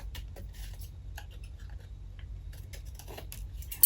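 Scissors snip through a paper bunting tag from the back in quick, light cuts, close and fairly quiet, a series of small crisp clicks with no talking.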